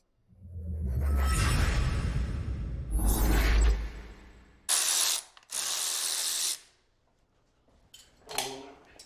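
Ratchet clicks and tool handling while a blower camshaft goes into a small block Ford Windsor engine, coming in several loud close bursts of rapid ratcheting separated by short pauses.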